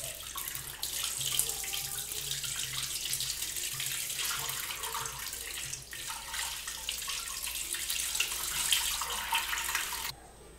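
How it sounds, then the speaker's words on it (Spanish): Tap water runs in a steady, close rush for about ten seconds as hands, arms up to the elbows and a scrub brush are rinsed during a surgical hand wash, then the flow cuts off abruptly. "Vamos a enjuagar tanto nuestras manos hasta el codo como el cepillo."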